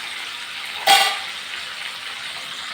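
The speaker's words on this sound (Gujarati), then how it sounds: "સરસ હલાવી લઈશું" A spoon sweeps once through lobia curry with tomato in a hot pan, a brief scraping stir over a continuous low sizzle of frying.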